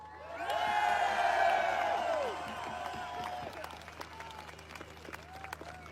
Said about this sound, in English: What a wonderful girl. Let's hear it for Laura.